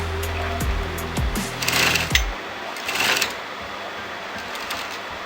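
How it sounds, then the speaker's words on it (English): A sewing machine runs in quick mechanical bursts while stitching a net fabric strip for a boat neck blouse with princess cut, with brief pauses between runs. The whirring is close and moderately loud, with no talking. "I'm going to sew this together."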